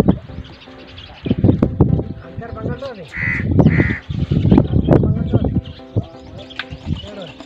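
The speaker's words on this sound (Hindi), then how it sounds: "परंदों की आवाज़ें मीठी मीठी सुर जो है वो सुनाई देती है।" Crows caw and doves coo around a water well in the Thar desert, fairly close and repeated, while someone speaks over them.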